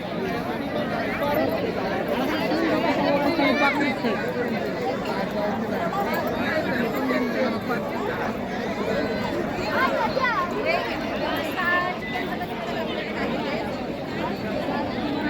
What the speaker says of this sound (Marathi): गर्दी बघू शकता तुम्ही किती झालेली आहे हे पूर्ण कॅन्टीन भरलेलं आहे